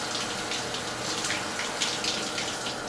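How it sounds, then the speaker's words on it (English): A shower runs hot water onto a baseball glove: a continuous, even hiss and gush of falling water, close by and unbroken, with no voices. "I got the shower running"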